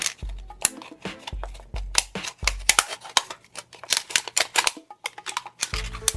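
Scissors cut through a thin aluminium soft drink can in a quick run of crisp, metallic snips and crinkles, close and fairly loud, with short pauses between bursts.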